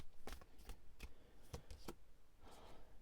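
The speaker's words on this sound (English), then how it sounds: "let's do a shuffle." Tarot cards being shuffled by hand: quiet, crisp riffling bursts repeat several times in quick irregular succession, close and alone without talk.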